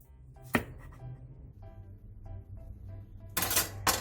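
A knife slices a zucchini into 0.5 cm rounds on a cutting board, giving a few sharp, close chops with quieter taps between them, over soft background music.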